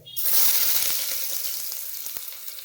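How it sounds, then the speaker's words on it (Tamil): Loud sizzling as onions hit hot oil, a sharp hiss that settles into steady crackling frying with small pops. "வெங்காயம் நல்லா வதங்கணும்,"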